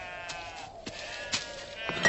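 Sheep bleating in a few short, wavering calls spread across two seconds, moderately loud over a faint open-air background.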